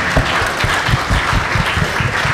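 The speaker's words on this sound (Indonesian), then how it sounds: "Tepuk tangan buat Pak Wamen." Applause from students and guests at a university public lecture for new communication students, loud, close clapping with a rhythmic, slightly uneven beat throughout.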